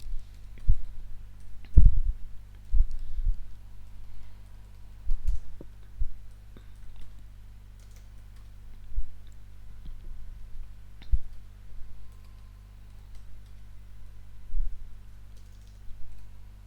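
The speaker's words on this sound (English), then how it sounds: "We type the following command." Someone types a command on a computer keyboard, giving sparse, irregular key clicks and taps that come close and clear over a low steady hum, with no talking.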